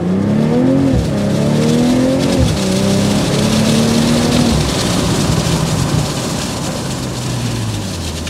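A 2024 BMW M440i convertible in Sport Plus mode with M suspension and M rear differential accelerating hard, engine pitch climbing through gear changes under heavy wind rush from the open top, loud and close.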